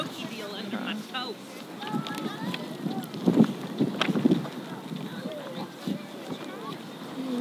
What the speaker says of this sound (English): fighting the wind a bit here